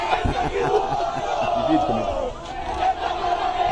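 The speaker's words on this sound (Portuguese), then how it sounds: "eu vou deixar a torcida fazer a festa" Corinthians supporters celebrate the Copa do Brasil title in a Bom Retiro street in São Paulo, a steady dense roar of crowd chanting and shouting that stays loud and continuous throughout.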